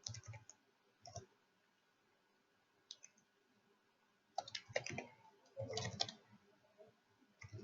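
Keys clicking on a computer keyboard as a search query is typed into CRM software, a few short isolated taps followed by a quicker burst of keystrokes, close and fairly quiet.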